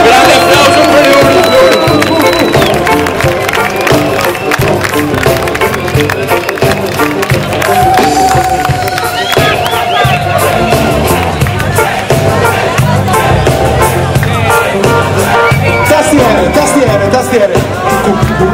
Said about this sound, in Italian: Sì, un grande applauso per Big Mike, sì.